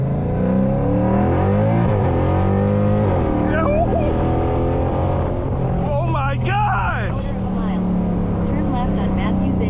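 A loud, rumbling cammed V8 engine in a widebody Scat Pack revs and pulls hard, pitch climbing through gear changes, with excited voices talking over it up close.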